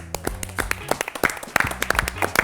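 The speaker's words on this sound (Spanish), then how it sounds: "lo vamos a recibir con un muy fuerte aplauso" An audience claps steadily, a dense patter of many hands building slightly toward the end, with a faint voice mixed in.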